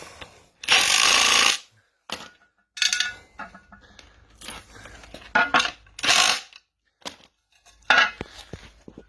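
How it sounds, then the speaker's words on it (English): A pneumatic impact wrench rattles in several loud, short bursts while tightening the blade nut on a Honda HRU216 lawnmower, the bursts separated by quiet gaps and small clinks. "And just rattle gun it back on."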